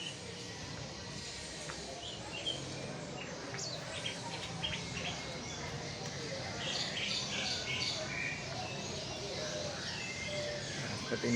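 A caged European flycatcher, imported from Europe, sings a steady run of soft, high chirps and twittering phrases, with low cooing and a murmuring background beneath.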